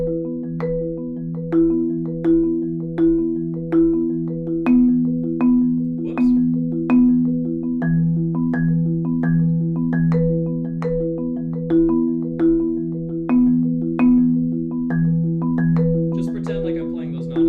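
Marimba plays a steady stream of struck notes in a repeating 4-3-2-1 accent permutation, with louder accented strokes standing out among softer ones. Ringing, resonant bars sound clearly with no talking over them.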